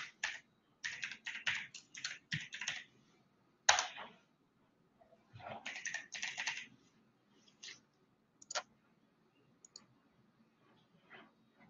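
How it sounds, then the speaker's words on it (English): Someone types a password on a computer keyboard, producing quick bursts of crisp key clicks separated by short pauses, close and fairly quiet with no talking. "I actually typed my password incorrectly."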